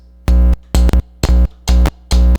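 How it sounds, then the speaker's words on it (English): Five loud, low buzzing pops and hums come through a switched-on electric guitar amp as a guitar cable is plugged in and pulled out, each burst lasting about a quarter second with short silences between. "I really recommend turning off your guitar amp before you plug it in, otherwise you're going to get sounds like this."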